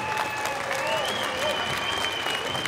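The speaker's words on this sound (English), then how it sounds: "how about a round of applause for these young men starting the night out for you?" Crowd at a fight event applauds continuously, a dense wash of clapping with a faint whistle-like tone running through it, moderately loud and steady throughout.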